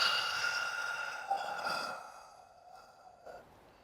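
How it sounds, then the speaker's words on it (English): A single long open-mouth exhale during a relaxing evening yoga breathing exercise, soft and breathy, tapering off gradually over a few seconds with no talking. "Open mouth exhale"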